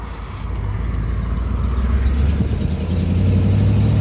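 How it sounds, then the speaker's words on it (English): A 1948 Allard L2 with a Ford V8 of about 85 horsepower and a three-speed gearbox drives along, its loud, steady engine drone rumbling continuously under heavy wind noise, with no talk. "So about kind of 85 horsepower or so from this Ford V8 engine."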